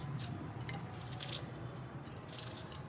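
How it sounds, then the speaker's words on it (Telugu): A knife cuts through an onion in a home kitchen, producing close, moist crunching and squishing slices in quick succession. "ఒక ఉల్లిగడ్డ కోసేసుకుందాం"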